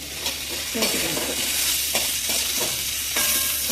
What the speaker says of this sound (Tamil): பொடியெல்லாம் போட்டு வதக்கி எடுத்தாச்சு